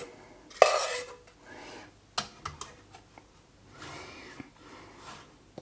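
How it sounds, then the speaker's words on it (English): A palette knife spreads chocolate icing over a cake, giving soft smearing scrapes broken by a few sharp taps and clicks of the blade against the cake or plate. "Now for the icing, palette knife, just gonna smoosh that all over."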